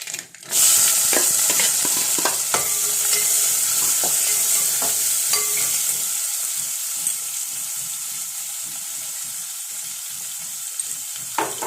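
Mustard seeds crackle and sizzle in hot oil in a pan, starting abruptly and keeping up a loud, continuous hiss dotted with sharp pops that thin out gradually.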